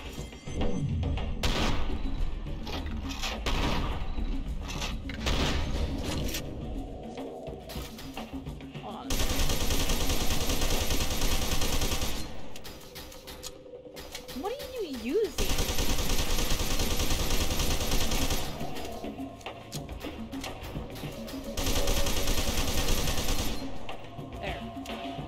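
Gunfire in the first-person shooter FEAR 2 comes in repeated loud bursts of rapid automatic fire separated by quieter stretches, with a voice talking over parts of the action.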